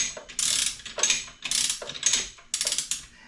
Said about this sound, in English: I flip to this position, and then you hear the click